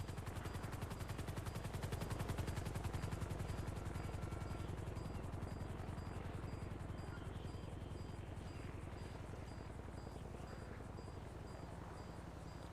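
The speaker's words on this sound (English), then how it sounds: "That chopper." Video game helicopter, a continuous close rotor chop with a rapid steady thump throughout, joined by bursts of gunfire early on, no talking.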